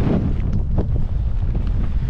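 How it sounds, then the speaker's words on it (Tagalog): Strong wind blowing across an open seashore at low tide, buffeting hard and roaring steadily with gusty rumbles close up. "lakas talaga ng hangin"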